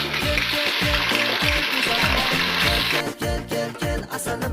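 Onions frying in a pan, a bright close sizzle with a repeating low thumping rhythm beneath it; the hiss eases after about three seconds while faint clinks continue.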